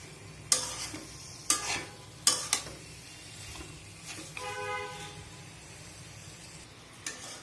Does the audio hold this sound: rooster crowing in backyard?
no